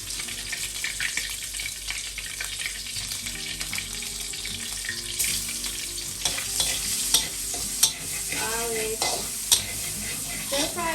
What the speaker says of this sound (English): So we're gonna use that oil,